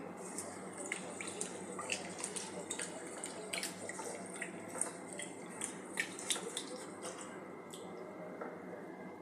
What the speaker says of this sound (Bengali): চালটা একটু ভালো করে 2-3 বার ধুয়ে নিতে হবে।